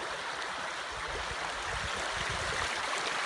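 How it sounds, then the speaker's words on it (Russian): The clear, clean Bass river in the Chechen Republic rushes steadily past close by, a loud, continuous wash of flowing water with no voices. "Вот, это река Бас. Чистая, прозрачная,"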